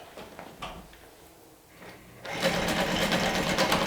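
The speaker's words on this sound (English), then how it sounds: "So now I'm going to top stitch using a 1/4 inch seam allowance." A sewing machine top stitches a seam at a 1/4 inch allowance, running steadily and fairly close for the last second and a half after quieter handling noises.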